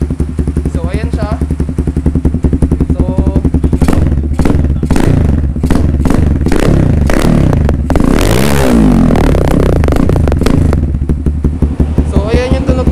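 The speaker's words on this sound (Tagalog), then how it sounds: "So ayan yung tunog ng MIVV Suono Italy mga ma'am sir." A Kawasaki Z2S single-cylinder motorcycle fitted with an MIVV Suono Italy muffler revs repeatedly, deep bassy blips rising and falling loud and close, with speech heard over the engine at the start and end.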